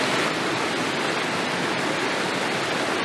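A waterfall in Soberanía National Park, Panama, pours with a steady, close, broadband roar of rushing water that stays loud and unbroken throughout, with no voices.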